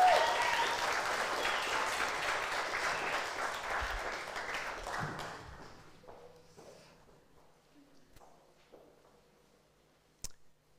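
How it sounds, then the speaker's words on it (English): A church congregation applauds during a Holy Communion service, full clapping that fades away over several seconds into quiet shuffling and a single knock near the end. "Can we give Lynn a round of applause?"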